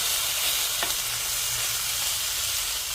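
Leftover pork from sinigang fries without oil in a pan, a steady close hiss of sizzling running throughout with a faint clink partway through.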